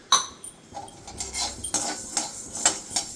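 Coriander seeds dry roasting for sambar powder rattle in a metal pan, with repeated clinking scrapes of a spoon stirring them in irregular bursts.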